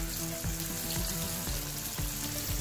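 Fish fries in hot oil with a steady, close sizzle and crackle, soft rhythmic pops recurring through the constant hiss.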